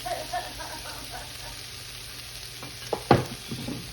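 Steady sizzle of fried rice ingredients in vegetable oil, with a few louder clatters near the end, like stirring in a pan, no voices.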